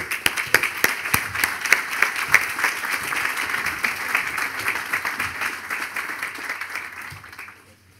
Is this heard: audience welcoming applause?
yes